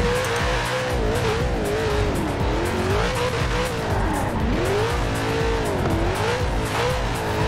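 Car drifting in the racing video game Forza Horizon 4, with a loud engine roar and wavering tire squeal that rises and falls through the slide, continuous throughout.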